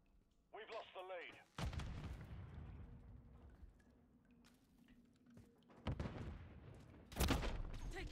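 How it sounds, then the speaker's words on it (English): Gunfire in a multiplayer shooter video game: a few sharp, loud blasts spaced several seconds apart over a rumbling battlefield din, with a brief voice near the start. "Taking fire."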